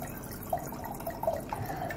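Red wine, a full-bodied Petite Syrah, poured into a glass: a soft, quiet trickle with a few faint drips and splashes over low room noise, no talk.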